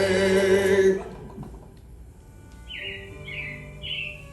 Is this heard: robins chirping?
yes